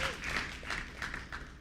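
A church congregation breaks into applause, a dense, steady patter of clapping that continues with voices mixed in.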